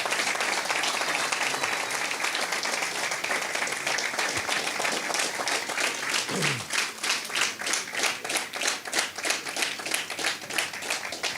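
A church congregation applauds during an evening service, a wash of clapping that settles into a more rhythmic, evenly spaced beat toward the end, moderately loud with a few knocks underneath.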